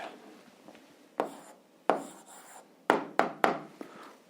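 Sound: writing down the answer

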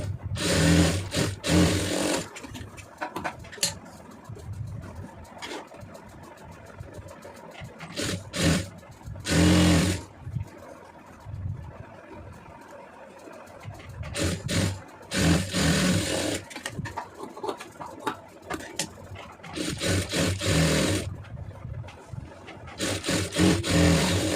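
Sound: sewing machine stitching a blouse

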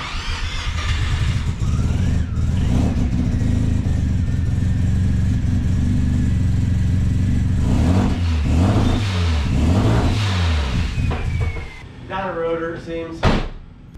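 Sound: car engine revving on dyno

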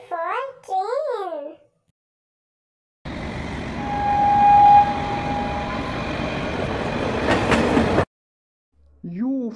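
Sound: train running on rails

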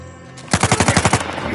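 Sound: gunfire in the video game Uncharted 4

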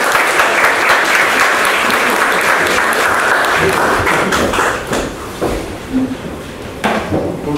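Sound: audience applause at a conference presentation

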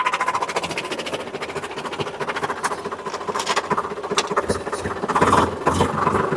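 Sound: tractor with trailer driving downhill in low gear

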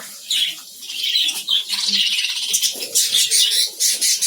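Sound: frightened budgerigars fluttering around in colony

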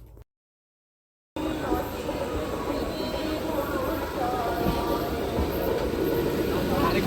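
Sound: train arriving at Gopalnagar station

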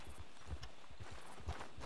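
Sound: horse hooves in a video game

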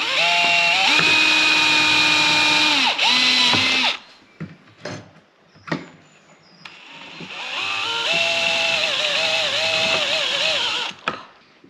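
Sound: power drill drilling holes

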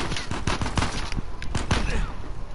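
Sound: sniper gunfire in the video game Uncharted 4

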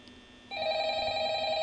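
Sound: telephone ringing in video game Five Nights at Freddy's

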